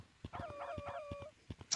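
A dog in the Gorilla Tag video game whimpers in a string of high, wavering whines, close and clear, with soft thumps and clicks between them.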